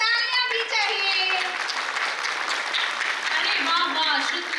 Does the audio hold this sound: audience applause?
yes